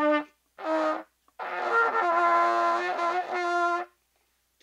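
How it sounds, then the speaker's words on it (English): Trumpet played with pinched, tight lips, three thin, strained sustained notes with short gaps between them, the last note held longest, played alone and close. "what I'm doing to create that sound is I'm pinching down right here in the center"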